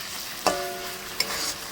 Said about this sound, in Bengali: ভালো করে নেড়ে দিই।